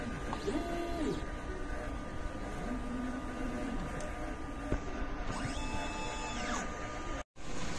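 Inkjet printer running a nozzle check after a head cleaning, a continuous quiet mechanical whir with repeated carriage sweeps and faint motor whines, plus a brief click near the end.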